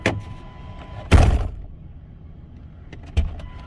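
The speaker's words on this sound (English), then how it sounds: "I'm just opening and closing the door." A car door opens and closes during a check of an electrical fault, two solid thunks about two seconds apart, each with a short rattle and latch click, over a low steady hum inside the car.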